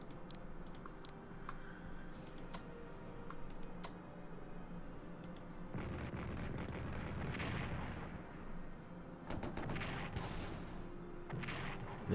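Quiet, distant artillery booms in the Strategic Command: World War I strategy game, coming in two longer rumbling stretches, with sparse mouse and keyboard clicks scattered between them.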